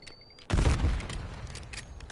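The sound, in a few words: incoming gunfire in video game Call of Duty Warzone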